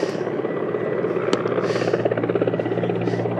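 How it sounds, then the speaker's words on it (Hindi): A helicopter passes overhead during a cricket practice session at the National Stadium in Karachi, its steady engine drone and rotor chop loud and continuous throughout. "लगता है ऊपर से हेलीकॉप्टर में भी देखने के लिए आए हुए हैं"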